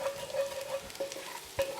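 Garlic, about one and a half cloves, fries in a pan, giving a brief, close sizzle with light stirring scrapes and a faint steady tone underneath.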